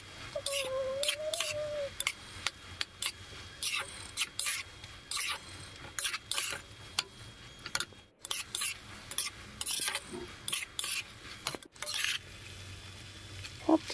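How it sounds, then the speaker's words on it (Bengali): Rice with green chili and coriander paste is stirred in a pot in repeated short scraping strokes, soft and close, with faint sizzling between. "সমস্ত কিছু এবার খুব ভালো করে মিশিয়ে নেব"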